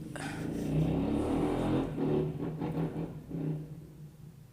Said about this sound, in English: Guy on the motorbike going past.